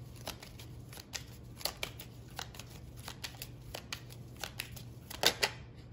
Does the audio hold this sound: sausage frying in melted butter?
no